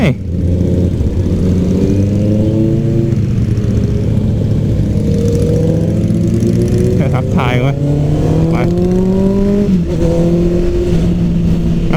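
Honda CBR650R motorcycle engine running hard on a busy road, a loud sustained drone whose pitch climbs and shifts through several gear changes, close up with wind noise and a voice talking over it.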